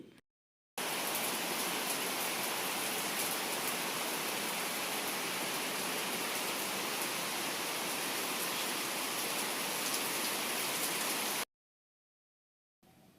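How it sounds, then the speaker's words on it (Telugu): Heavy rain pours down in an even, loud, hissing wash that holds steady throughout, starting and stopping abruptly with silence at both ends. "ప్రతిరోజు వర్షమే అండి, బాగా అయితే మాత్రం వర్షం పడుతుంది"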